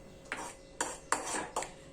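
A spoon stirs a spiced onion mixture with red chilli powder and salt in a pan, four quick scraping clinks of metal against metal, close and distinct with no voice.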